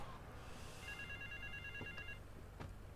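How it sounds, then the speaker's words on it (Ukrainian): A telephone rings faintly in Grand Theft Auto: Vice City, a short electronic ring tone under low game background noise. "Дивіться, він вже телефонує."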